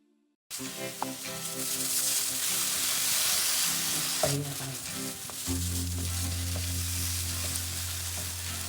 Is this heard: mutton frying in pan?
yes